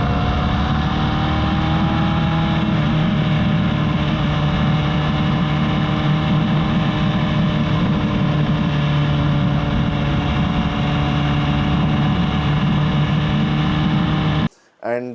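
A BSA Goldstar 650 single-cylinder motorcycle running steadily, a loud, bassy engine drone with wind rush that holds for the whole stretch before cutting off abruptly near the end.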